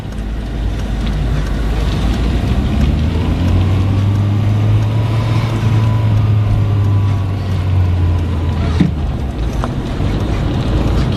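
A self-driving car pulls away once its path clears, a low motor hum swelling and rising in pitch over steady road and wind noise, with no talking.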